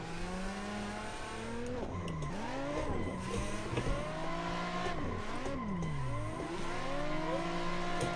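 A Nissan 350Z drifting and spinning in a tandem drift event: the engine revs and tires squeal in long, wavering howls that rise and fall, moderately distant and continuous.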